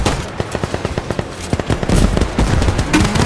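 Rapid bursts of automatic gunfire from a skill attack in the Roblox war-machine game Lion Man, sharp, closely spaced shots in uneven volleys that grow denser and louder toward the end, with no talking.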